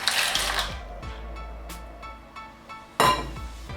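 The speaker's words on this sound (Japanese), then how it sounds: "ざるを鍋の中に1個かまそうかな。 こんな感じ。 でここにアサリを入れていくからね。" Live clams are dropped into a colander set inside a pot, making sharp clinks and rattles in a few separate bursts. The loudest clatter comes near the end, with quiet moments in between.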